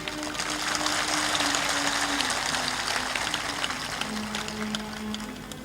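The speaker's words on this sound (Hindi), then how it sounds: "तालियां जोर से बजाइए।" A congregation at a Hindi spiritual sermon claps loudly and steadily. The sustained wash of applause runs throughout over a faint, low droning tone.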